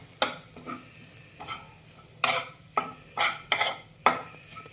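Bhogi vegetables with sesame powder being sautéed in a pan: a run of sharp spatula scrapes and stirring strokes over a soft sizzle, close and fairly loud, with no talk.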